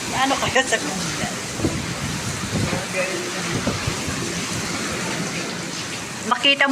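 Heavy rain pours in Dubai with gusty wind, a dense steady roar of rainfall throughout, with people talking briefly at the start and end.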